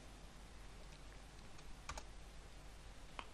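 A computer keyboard is tapped to enter a password at a Linux terminal: a few soft, close keystrokes spaced apart, with one louder pair near the middle, over a steady low room hiss.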